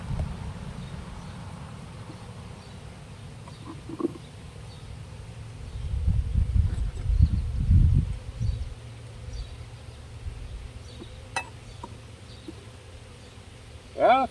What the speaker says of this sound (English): these bees. No wonder they're so happy.